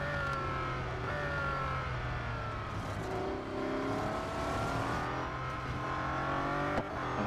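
Simulated racing engines from Real Racing 3 hum and climb through gear changes in a steady, close drone, overlapping with the sound of nearby rival cars.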